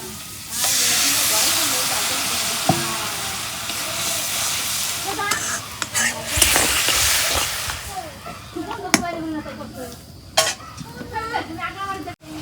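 Salt and ground spices sizzle and hiss in a pan as masala is fried for a rupchanda fish curry with potato and brinjal, with steady frying noise, occasional utensil clinks and scraping, and a voice speaking at times.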